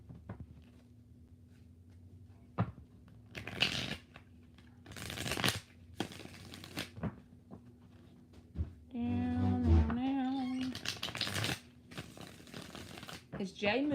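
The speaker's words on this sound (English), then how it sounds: "2 more shuffles." Tarot cards shuffled by hand at close range in repeated short riffling bursts, with a voice speaking between and over some of the shuffles.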